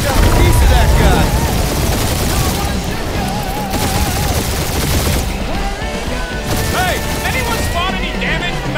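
Turrets fire in the Guardians of the Galaxy game, loud rattling volleys and crashes in a busy battle mix, with people talking over the barrage almost throughout.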